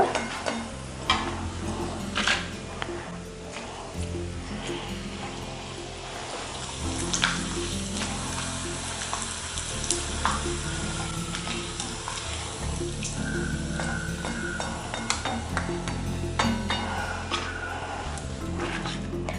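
Potato papad (aloo happala) fries in hot oil with a continuous close sizzle and busy crackle, rising and easing slightly as the pieces cook.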